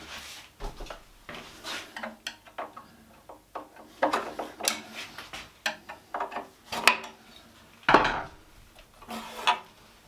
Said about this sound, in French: Je desserre mes deux petites vis.